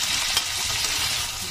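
Peas, potato and cauliflower sizzle steadily in a hot pan as they are stirred for poha, a dense close frying hiss filling the short moment without any voices.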